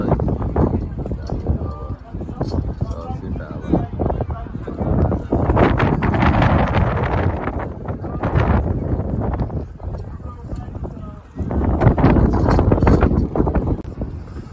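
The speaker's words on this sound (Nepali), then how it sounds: "अहिले चाहिँ नि हामी गाडीमा आछौँ बाहिर एकदम हावा लागेर" Strong wind buffets the outside of a car as vehicles leave the Gurkha Cup grounds, a steady, loud rushing roar that surges in waves and runs under talking throughout.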